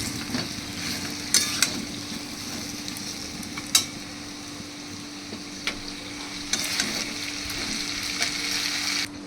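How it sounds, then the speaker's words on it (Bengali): Water is poured into a pan of fried spice paste glistening with released oil, with jackfruit seeds, pointed gourd and potato already in. A steady close sizzle carries sharp clinks and swells into a louder hiss toward the end. "এবার আমি এর মধ্যে জল দিয়ে দিচ্ছি।"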